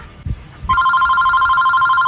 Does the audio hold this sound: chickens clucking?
no